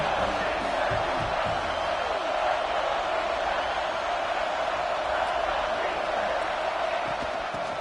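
Football stadium crowd cheering as the home defense lines up in the red zone, a steady, dense roar of voices with scattered shouts, with a commentator talking over it.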